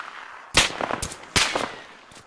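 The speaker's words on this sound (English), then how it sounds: "Shit, I'm getting shot at too" Gunfire in ArmA 3, a large-scale co-op military game: two sharp loud bursts of shots about a second apart, each followed by a short rattle of further rounds and echo, with no talk over them.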